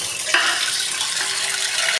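Water gushes steadily into a bucket to mix a garden fertilizer of leftover old rice, turmeric powder and asafoetida, a loud, close, continuous pour lasting a couple of seconds.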